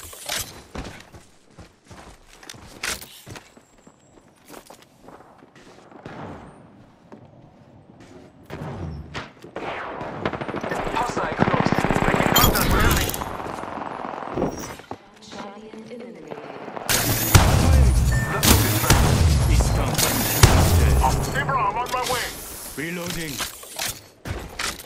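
Charge rifle gunfire in the video game Apex Legends cracks out in sharp, separate shots amid dense game effects and impacts, with voices speaking over the action.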